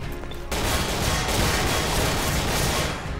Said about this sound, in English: People are shooting through.